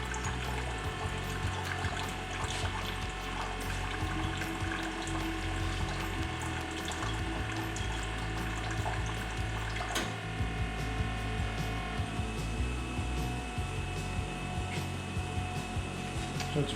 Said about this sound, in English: we're performing a final rinse through into the cup station area